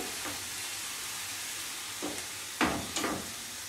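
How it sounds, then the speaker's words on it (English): A chicken and bean casserole sizzles faintly in a pan as the alcohol burns off, a steady low hiss broken by a few brief louder bursts of frying near the end, with no talking. "Let that sizzle up, burn off the alcohol."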